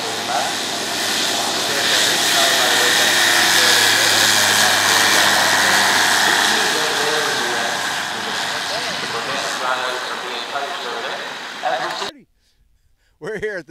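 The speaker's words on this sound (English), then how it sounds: "today we got to go fly again in the Bristell airplane" A Bristell light sport aircraft's engine drones loud and steady at an LSA expo, a sustained propeller roar that ends abruptly, followed by brief talking.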